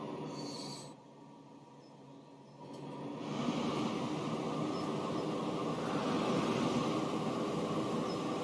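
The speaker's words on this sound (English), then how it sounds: "Look at these trains." Trains running on a rail network in the Transport Fever 2 video game, carrying goods and fuel: a steady rolling rumble that swells and stays fuller after a short quieter stretch, with no talking.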